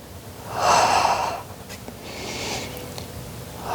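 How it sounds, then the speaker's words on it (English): A Pilates exhale during a flowing mat workout, made of two soft airy breaths. The first is fuller and louder, the second is lighter, and both are heard close up with no talking. "and then exhale."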